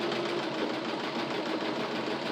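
A sewing machine runs steadily at close range, stitching a straight seam on cushion and mattress covers with a continuous, even whirring hum and no pauses.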